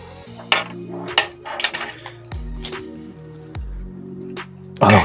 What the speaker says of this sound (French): Donc vous voyez, on visse. On visse, on visse, on visse.